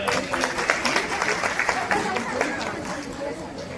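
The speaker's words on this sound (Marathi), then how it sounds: "त्या आमच्या आशाताई पाटील यांच्यासाठी एकदा जोरदार टाळ्या" An audience at an awards ceremony breaks into a round of steady clapping, moderately loud and sustained, with crowd murmur underneath.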